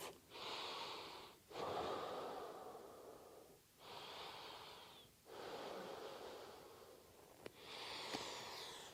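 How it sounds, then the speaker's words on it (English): Slow, deep breaths during a gentle morning yoga stretch, about five long airy inhales and exhales close to the ear in a steady rhythm, heard alone without talk. "Deep breaths."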